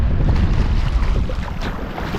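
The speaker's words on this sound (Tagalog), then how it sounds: "Medyo malakas din yung hangin," Strong wind roars steadily against the microphone, a loud, continuous low buffeting with no voices.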